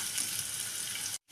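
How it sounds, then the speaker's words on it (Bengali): Potatoes fry in hot oil for aloo potol korma, giving a steady bright, hissing sizzle close up that cuts out briefly at the end, with no talking. "আমরা আলুগুলোকে লাল লাল করে ভেজে নিচ্ছি।"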